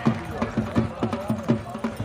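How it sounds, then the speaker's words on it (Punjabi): A horse gallops in a neza bazi tent-pegging event, its hoofbeats pounding in a quick, regular rhythm close by, with faint crowd noise behind. "ਘੋੜਾ ਦੌੜ ਰਿਹਾ"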